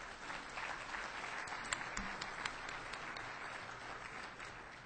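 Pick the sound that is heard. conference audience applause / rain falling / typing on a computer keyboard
conference audience applause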